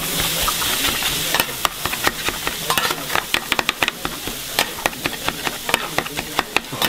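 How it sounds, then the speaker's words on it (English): Kimchi fried rice made from leftovers after pork belly sizzles on a hot stone at a restaurant table, with a constant hiss broken by frequent sharp scraping and tapping clicks from a spatula. "they bring the rice and they make fried rice right in front of you on the hot stone again"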